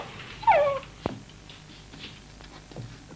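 A dog gives a short whining yelp, followed by a sharp knock and faint low sounds in an otherwise quiet scene from a 1976 horror film.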